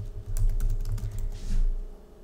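Steady keyboard typing into a Google Form, a quick run of close key clicks over a low constant background hum, with no talking.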